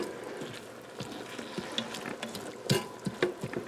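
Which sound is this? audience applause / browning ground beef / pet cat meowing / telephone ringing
browning ground beef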